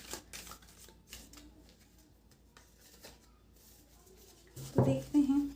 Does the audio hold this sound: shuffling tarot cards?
yes